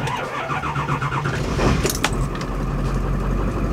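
A 7.3L PowerStroke diesel truck engine cranks and catches around the midpoint, then settles into a steady low rumble; a brief metallic jingle comes just before it starts.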